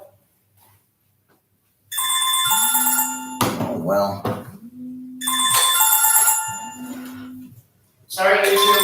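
A telephone ringing in repeated loud electronic bursts separated by short pauses, with a person briefly speaking between the rings.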